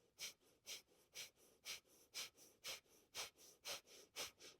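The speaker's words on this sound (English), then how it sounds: "Breath of fire." Rapid yogic breath of fire during a Kundalini Nabhi Kriya practice: a steady train of sharp, forceful nasal exhales, about three per second, close and even, with no talking.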